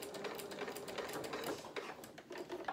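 Sewing machine stitching fabric in a soft-toy bear sewalong, a quiet, quick, even rattle of the needle running steadily, faint and close.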